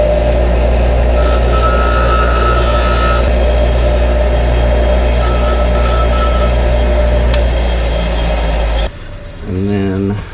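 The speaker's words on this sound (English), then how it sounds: "what I've been doing is kind of flattening out the end on my grinder here" A bench grinder flattens the end of a small metal part for a motorcycle carburetor repair, a loud steady whine and grinding hum running continuously, then cutting off near the end as a voice speaks.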